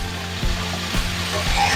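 Young drumstick stalks and potato fry in a pan with salt, a little turmeric and poppy seed, giving a steady sizzle with three soft stirring scrapes spaced evenly through it.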